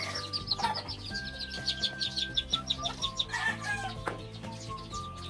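Gamefowl hen with her chicks, rapid close clucking and peeping in quick bursts, with some flapping, over soft background music.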